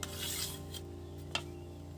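A knife cuts through egg-dipped bread toast in a home kitchen: a close, rough rasping scrape at the start, then one sharp crisp cut about midway, over a steady low hum.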